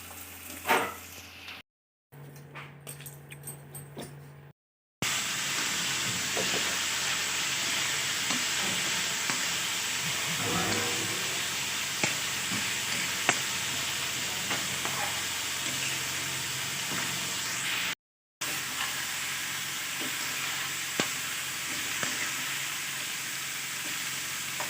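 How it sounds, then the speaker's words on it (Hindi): Cumin seeds and asafoetida sizzle steadily in hot cooking oil, a close, continuous crackling hiss broken by two brief silent gaps, with no talking. "यहाँ पे मैंने हींग डाल दी है तेल में, और ज़ीरा डाल दिया है"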